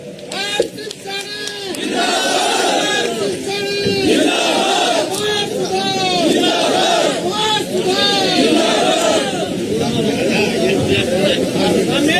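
A large crowd at a political rally in Kheri Markanda, Kurukshetra chants a loud rhythmic cheer in unison, with voices rising and falling in repeated waves that stay full and loud.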